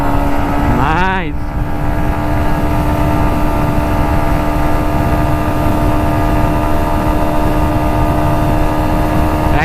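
A Yamaha MT15 motorcycle engine grunts steadily while being ridden, a loud, close, continuous drone with a quick rising-and-falling rev near the start, then an even pull under rushing wind.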